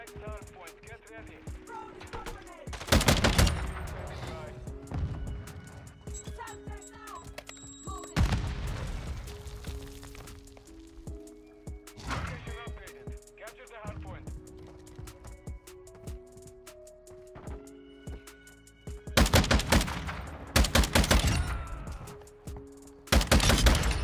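Lachmann 762 rifle fire in Modern Warfare II: bursts of loud, rapid automatic shots come in several clusters, separated by quieter stretches of game ambience, tonal effects and occasional speech.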